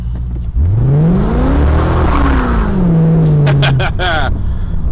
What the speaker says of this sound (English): We're just going to punch it right here and see what she does.